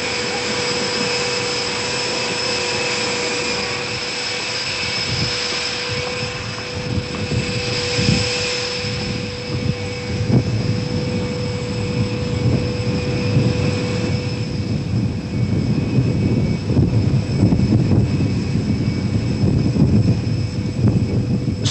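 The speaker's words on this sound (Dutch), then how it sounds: "Dit is het vliegveld van Colombo." Aircraft engines whine and roar steadily at Colombo airport, a continuous loud jet hum with a sustained high tone and rumbling low end throughout, no talk.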